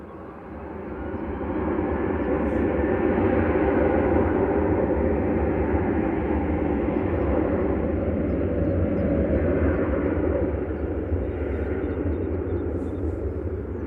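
A Hainan Airlines airliner on the runway at Manchester Airport makes a sustained, broad, distant engine roar that swells in and holds steady for over ten seconds, with no talk over it.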